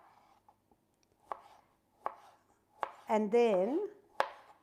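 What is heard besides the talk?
knife chopping gherkins into thin strips on a board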